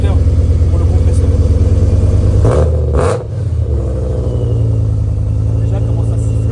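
A car engine running loud and close with a steady low rumble, dipping briefly mid-clip before settling back to a steady idle, with faint voices nearby.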